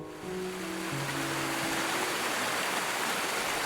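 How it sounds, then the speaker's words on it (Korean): A waterfall in the Areng valley of southwestern Cambodia, playing from a video artwork in a museum exhibition: a loud, steady roaring rush of falling water that swells in after a brief tonal opening. "시원한 폭포 소리가 압도적인 이 영상은 캄보디아 작가 끄베이 쌈낭의 영혼의 길입니다"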